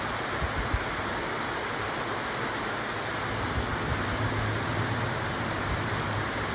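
Steady rain pouring down outdoors near a hillside, an even, continuous hiss with no breaks and no voices.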